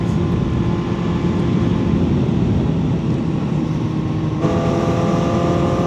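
Kawasaki ZX-4RR motorcycle ridden with the quick shifter engaged: a loud, steady high-revving engine drone with wind rush that runs without a break, shifting pitch once near the end as a gear changes.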